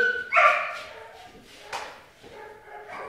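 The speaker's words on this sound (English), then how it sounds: "Good doggy, good doggy, good Maxie" A dog barks and whimpers a few times at close range during basic obedience training at a K9 training center, the sharp yelps spaced unevenly with quiet gaps between.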